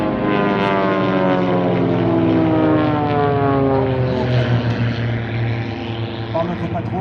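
Propeller aircraft of the Patrouille Tranchant fly overhead at an airshow, a loud, continuous droning engine roar with shifting pitch that swells and slowly fades as the planes pass.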